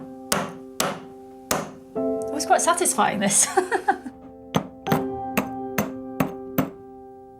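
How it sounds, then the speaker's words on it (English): A hammer strikes a lump of rock being crushed into pigment for paint, a series of sharp, hard knocks with irregular gaps, close and loud, with someone talking and laughing between blows. "They hammer it. Not very sophisticated. Hammer it until it gets smaller and smaller."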